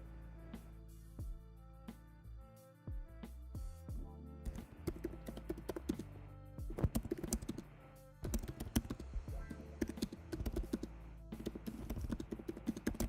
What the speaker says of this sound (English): Typing in some different search terms.